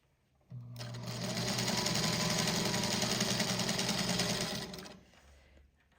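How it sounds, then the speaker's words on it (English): A sewing machine stitches a quarter-inch seam on autumn patchwork quilt fabric with a seam guide, a steady, close whirring run of about four seconds that starts and stops abruptly. "And then I'm just going to use my Seam So Easy guide to do a 1/4-inch seam allowance."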